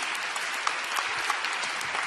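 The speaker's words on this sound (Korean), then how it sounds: "큰 박수로 환영해 주시기 바랍니다." A congregation at an evening church worship service welcomes a pastor with dense, continuous applause that stays steady and full throughout.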